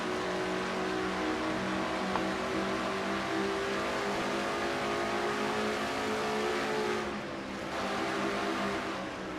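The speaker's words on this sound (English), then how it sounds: "Take a look at from inside Seth's car and how you drive and how you ride on this racetrack here" A stock race car engine drones steadily from onboard the Liberty University Chevy number 25, a loud sustained tone at constant pitch that dips briefly as the driver lifts, then carries on.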